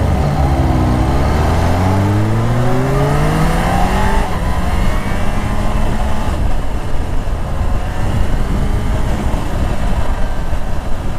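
A 2018 Kawasaki Ninja H2 SX SE supercharged sport-tourer engine revs up hard through the gears, pitch climbing in repeated sweeps before settling into a loud, steady high-speed drone with heavy wind rush, heard up close from the rider.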